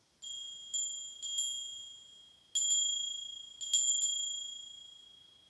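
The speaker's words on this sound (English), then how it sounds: "Let's ring in the bell to open the space." A small bell rings clear, high tones in a series of strikes, some in quick pairs, each chime ringing out and slowly decaying in a quiet room.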